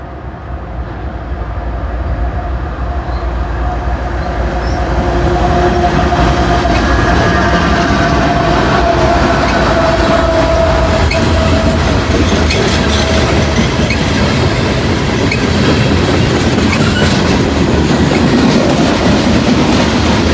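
A train rolls past on the CSX shortline, loud and close, with a continuous rumble, rhythmic clickety-clack of wheels and faint metallic squeal building and holding for the whole stretch, no voices.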